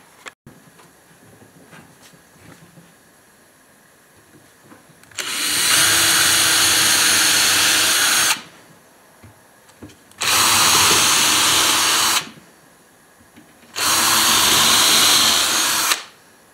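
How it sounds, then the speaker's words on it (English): A power drill drives screws into the wood of a firewood box in three loud, sustained whirring bursts of about three seconds each, separated by quiet pauses, with no talking. "That's why we're putting screws in it."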